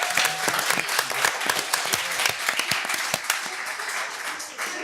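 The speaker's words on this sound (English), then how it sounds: "you deserve an applause." A council meeting audience applauds the volunteer coaches, with dense, sustained clapping from a crowd that fades slightly toward the end.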